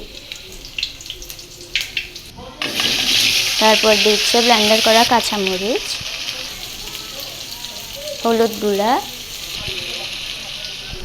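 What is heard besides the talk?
chopped onions and spices frying in hot oil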